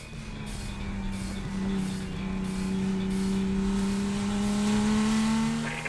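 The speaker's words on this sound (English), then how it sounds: "So, 2006 Porsche Cayman S, modified for track use." A 2006 Porsche Cayman S modified for track use drives steadily, its engine note holding a strong, sustained tone that slowly rises as it pulls, loud and close with no talk over it.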